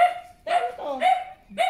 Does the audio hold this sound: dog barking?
yes